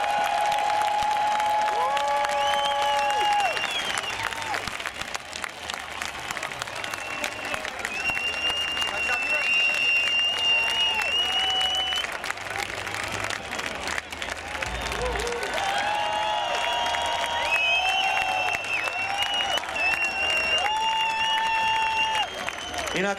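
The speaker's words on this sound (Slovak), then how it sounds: "A ešte na záver jeden veľký potlesk pre Mariana Gáborika a jeho trofej." Sustained audience applause at the Pohoda music festival saluting a hockey player's Stanley Cup trophy, a dense steady wall of clapping across the whole span with some crowd noise and tonal whistles or feedback drifting above it.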